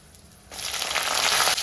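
Okra hits hot oil for a Kerala sambar and sets off a steady, close sizzle that builds quickly and holds, with a faint crackle.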